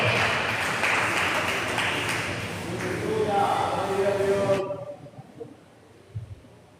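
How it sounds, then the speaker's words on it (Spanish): A church congregation claps in a dense burst, loud and sustained for several seconds before cutting off abruptly, followed by a few faint low sounds and near silence. "Dan ese aplauso a Cristo que vive."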